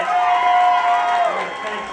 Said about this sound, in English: Give these bands another round of applause.